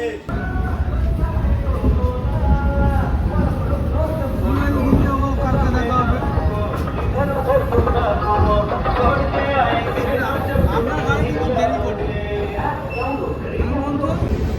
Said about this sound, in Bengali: তো এখন খড়গপুর স্টেশন ছেড়ে বেরিয়ে যাচ্ছে